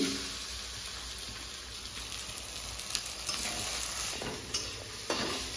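Egg fries on full flame in a pan before leftover rice goes in, a steady close sizzle with stirring scrapes and clinks, no talking.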